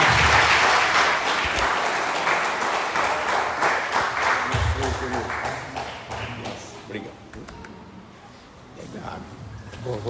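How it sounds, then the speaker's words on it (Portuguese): A church congregation applauds during a sermon. The clapping is loud and dense at first, then thins and fades away. Talk runs over the applause. "Uma salva de palmas e merece em nome de Jesus."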